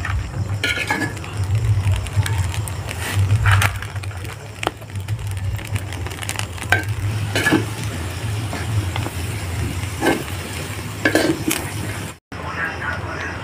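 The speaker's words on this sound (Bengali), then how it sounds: "তোমার দাদা ভালো করে চালটা দিয়ে এখন কষছে" Rice and puffball mushrooms fry in a pot while being stirred, with scraping and clinks of a spoon against the metal over a low burner hum and faint voices in the background.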